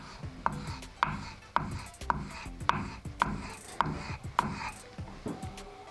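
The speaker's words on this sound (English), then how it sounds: "Using the leather strop, you just strike your chisel across the leather strop a couple times." A chisel rhythmically struck and rubbed across a leather strop in the workshop, about nine sharp, evenly spaced strokes with a close slapping, brushing sound and no talk.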